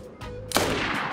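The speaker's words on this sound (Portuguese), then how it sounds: "Vamos ver quantos tiros ele vai aguentar." Gunfire in the video game DayZ, aimed at a modded body armor vest: a sharp, loud shot cracks out about halfway through and leaves a dense, sustained rumble behind it.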